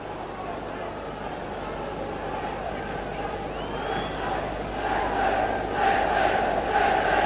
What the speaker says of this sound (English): The home crowd trying to lift the team